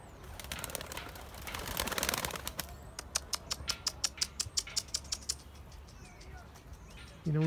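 Pigeons taking flight from a rooftop loft, a burst of flapping wings followed by a quick rhythmic series of wing claps, fairly close, with a voice briefly heard outdoors.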